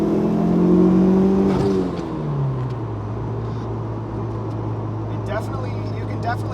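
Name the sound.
90s DSM turbo car engine accelerating under boost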